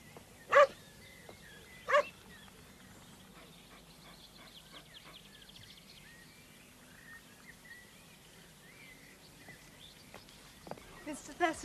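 A dog, a mother with new puppies, gives two sharp, loud barks early on and a couple more later. In between is a quiet, softly murmuring room, with faint birds outside, in a 1981 TV murder mystery.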